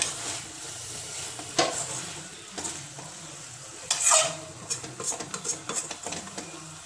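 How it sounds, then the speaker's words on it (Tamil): Spices tempering in hot oil for a yam sambar, a soft continuous sizzle with scattered pops and bursts of crackling that grow busier toward the end, close up and without speech. "இப்போ நம்ம இதை தாளிச்சு விட்டுடலாம்"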